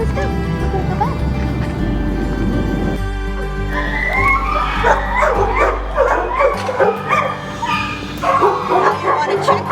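Several dogs bark, yip and whimper in shelter kennels, a loud overlapping chorus of barks with whistle-like yelps, echoing close by, while a person speaks briefly among the noise.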